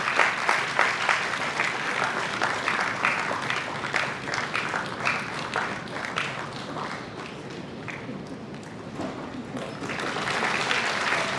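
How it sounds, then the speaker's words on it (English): Audience clapping at a felicitation ceremony, a full round of applause from many hands that dips slightly midway then swells again toward the end, continuous and fairly loud with no talking. "Can we have the applause going, please?"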